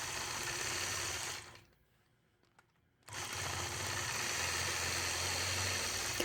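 A sewing machine stitches a quilt block point to point with a steady, close whir that cuts out for about a second and a half midway, then starts again at the same pace.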